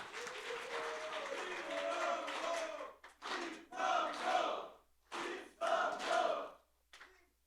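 An audience at a Justice Party Ignite 2017 event in Korea applauds and cheers to welcome a speaker, the loud rounds of clapping and shouts coming in several bursts split by brief lulls before fading out.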